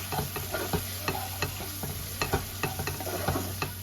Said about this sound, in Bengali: অল্প একটু হলুদের গুঁড়ো এবার ভালো করে মিক্স করে দেবো